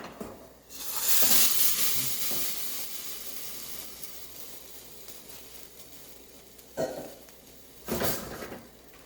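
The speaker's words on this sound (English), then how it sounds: "We're going to add your pureed tomatoes." Pureed San Marzano tomatoes hit hot olive oil and half an onion in a pan with a loud hissing sizzle that slowly settles into a softer simmer, with a couple of brief clattering bumps later.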